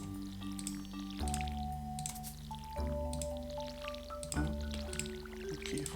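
Crops being watered in the Stardew Valley video game: soft splashing and dripping effects recur over mellow, steady background music.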